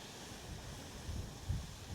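Gusty wind buffeting outdoors during paraglider ground handling, a steady low rumble with a couple of stronger gusts swelling near the end.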